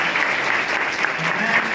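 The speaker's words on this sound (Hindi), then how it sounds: "एक बार फिर से आप सब गुरुजी के सम्मान में जोरदार तालियां बजाएं।" Hall audience applauding loudly to honour Professor SR Mittal at a reunion gathering, a dense continuous patter of many hands at steady volume with faint voices underneath.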